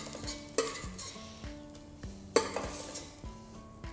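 Spice paste for a tomato-based fish curry sizzles and fries in a pan while a utensil stirs and scrapes it, with sharp clinks against the pan at intervals over a steady background hiss.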